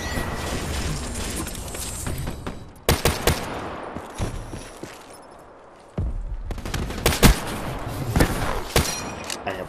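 Single-shot M1 Garand rifle fire in Black Ops 3, loud close cracks in two clusters separated by a quieter lull, with thuds and impacts mixed into the busy multiplayer action.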